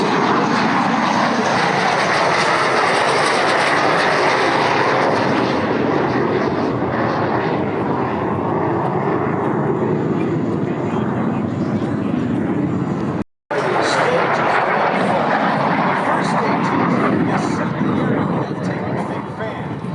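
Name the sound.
airplane passing at slow speed, landing gear and flaps extended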